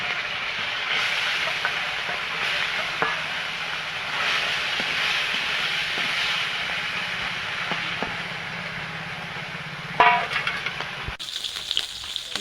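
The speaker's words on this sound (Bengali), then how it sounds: "মাছগুলো ভাজা হয়ে গেছে, মাছগুলো তুলে নেব।" Fish fry in hot oil as a continuous close hiss and crackle, with a few faint ticks and a brief clatter near the end before the frying cuts off.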